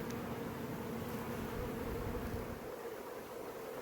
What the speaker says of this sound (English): a lot of bees in this swarm